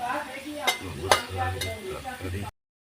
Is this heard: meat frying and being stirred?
yes